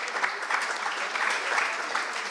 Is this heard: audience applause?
yes